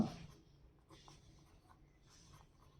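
Faint pen strokes scratch across paper in short bursts while someone writes out the working of a math problem by hand, quiet and close with soft room noise between strokes.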